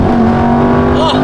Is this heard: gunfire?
no